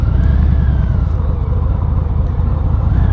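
A Harley Heritage motorcycle engine rumbles steadily while riding, a loud continuous low drone with wind noise layered over it.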